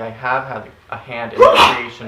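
A single loud sneeze bursts out mid-sentence during a spiritual talk, sharp and close, right after someone speaking calmly.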